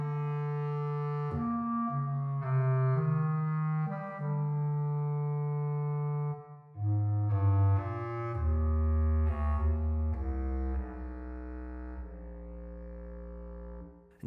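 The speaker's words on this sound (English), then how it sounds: "I'll just keep playing a little bit of the legato simply because it's the one that you'll probably use a lot." Legato woodwind lines from a Synchron orchestral sample library, sustained notes gliding into one another with smooth transitions, moving from mid register down to low, deep tones, played alone with no talk.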